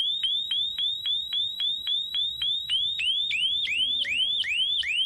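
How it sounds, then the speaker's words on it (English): Rapid electronic siren chirps repeat fast, then slow into longer rising sweeps as the pitch shifts, loud and continuous with no voices. "And there you have it, an adjustable siren."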